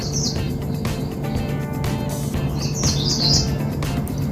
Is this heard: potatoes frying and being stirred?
no